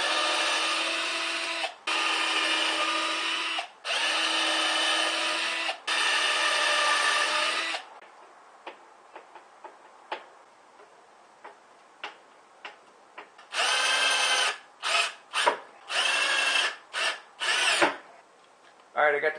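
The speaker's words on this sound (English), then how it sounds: "Alright, I got the corners drilled down and screwed in, so now we can really fire through this fast." Power drill driving 1-inch screws into the back of a homemade solar panel case: long loud whirring bursts, then a stretch of ticking clicks, then several short quick bursts, close by.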